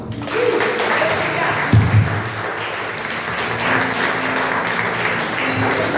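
A church retreat audience breaks into applause, a broad wash of many hands clapping at steady volume for several seconds, with a brief low thump partway through and faint voices mixed beneath.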